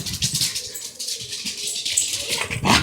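A puppy reacts to music with close, high whimpering and whining cries that rise and fall over a few seconds, the music faint beneath.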